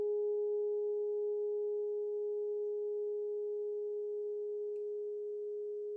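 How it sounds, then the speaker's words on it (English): A 417 hertz tuning fork rings out alone as a pure, steady tone with a faint overtone above it, sustaining evenly and fading only slightly over several seconds. "And I have all these tuning forks."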